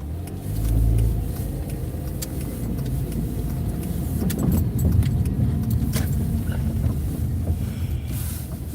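A car rolls slowly in a line of cautious, slow-moving traffic, giving a continuous broad road and engine rumble with wind buffeting and occasional rattles and clicks, steady and fairly loud throughout, with no talking.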